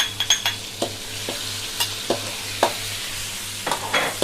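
Pounded chili and garlic sizzle in a hot pan as a utensil stirs and scrapes it in repeated sharp strokes, with a steady frying hiss underneath.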